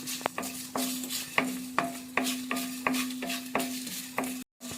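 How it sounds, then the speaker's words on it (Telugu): Whole spices such as cinnamon, cardamom, cumin, coriander seeds, star anise and bay leaves fry in a pan for jackfruit biryani, giving a steady close sizzle broken by regular stirring scrapes about every half second, then a sudden brief cutoff near the end. "దాల్చిన చెక్క అలాగే బిర్యానీ ఆకులు మొత్తం ఇలాగా ఫ్రై చేద్దాం మంచిగా"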